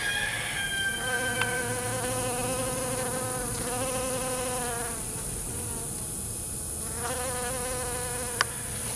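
Steady buzzing of bees collecting pollen close by, a continuous droning hum with wavering pitch as they hover and move around, no voices.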